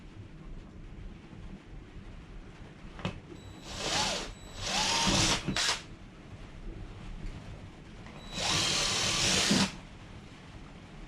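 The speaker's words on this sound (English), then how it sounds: "Got some drill bits, gonna drill out a hole, try to run the bolts through these things" Power drill boring a hole for bolts, heard as several separate whirring bursts, one short, two longer runs in the middle and a final sustained run, close and loud over a quiet background.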